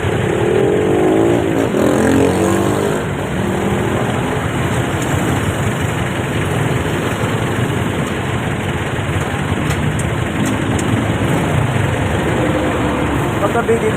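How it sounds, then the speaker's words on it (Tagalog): Motorcycles idle in dense street traffic, a steady low engine rumble running throughout with the broad wash of a busy road, while people talk over it. "Kami talagang motor dito, kaya traffic."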